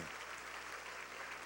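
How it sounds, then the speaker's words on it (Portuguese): Church congregation applauding the Lord during a Pentecostal conference service, a steady dense wash of clapping filling the whole stretch at fairly low level, with no voices over it. "Pode aplaudir a Ele com força."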